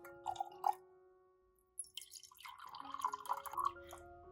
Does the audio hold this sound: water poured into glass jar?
yes